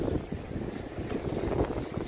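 Strong coastal wind buffets the microphone with a rough, continuous rumble, while waves wash in beneath it at Pen Bron, facing Le Croisic, with no voices.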